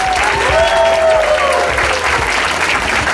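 Sustained audience applause for the Premier at a PC party campaign launch, a dense, loud wash of clapping held steady throughout with faint voices and whoops mixed in.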